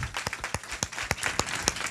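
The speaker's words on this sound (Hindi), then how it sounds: "जोरदार ताली बजाओ" A congregation at a village religious revival gathering claps, with sharp, fairly regular, distinct handclaps from a modest group, loud and close against a reverberant background.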